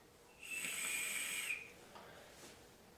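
A Dead Rabbit RTA vape atomizer gives a thin, high-pitched whistle that holds steady for about a second, then fades, leaving a faint hiss behind.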